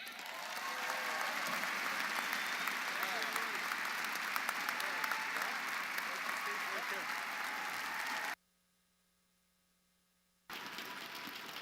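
Steady audience applause at a volunteer orientation, a dense wash of many hands clapping that cuts out abruptly to near silence for about two seconds before resuming.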